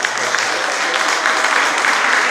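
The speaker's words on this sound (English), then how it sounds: "Another round of applause for the Mayor of Yarra City" An audience at a Yoruba Day cultural celebration applauds the Mayor of Yarra City, a loud, dense and continuous burst of clapping from many hands filling the room.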